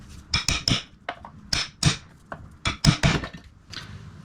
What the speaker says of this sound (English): I'm going to try and get this cap seated just enough to where I can rest this on top and then hammer them both into place.